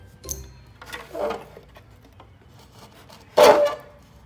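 A knife cuts and trims a homemade GPS phone holder in a few short, rough scraping strokes, the last one louder and sharper, with no talking.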